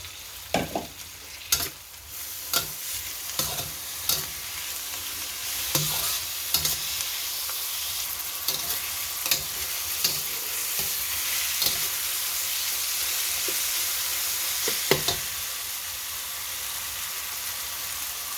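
Kamias slices added to a hot pan for spicy chicken cooked in coconut milk, heard as a continuous bright sizzle broken by repeated sharp scraping and clinking of stirring, close and steady with no speech.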